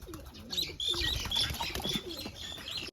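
A freshly caught pigeon beats its wings in a flurry of rapid flapping, with soft coos and chirps, close by in a village household, faint and unaccompanied by talk.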